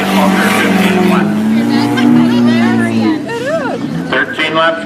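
Demolition derby cars race around a track with engines revving loudly and tires squealing, as a close voice talks over the noise throughout.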